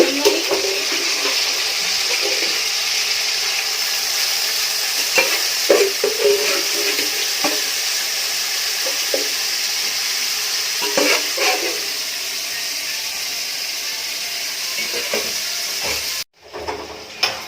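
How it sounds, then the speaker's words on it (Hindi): Potatoes fry in a pan on a home kitchen stove, a steady loud hiss of sizzling oil with intermittent scraping and stirring clatter throughout, cutting out briefly near the end. "आलू फ्राई कर"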